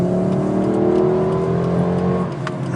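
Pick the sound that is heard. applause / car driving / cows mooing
car driving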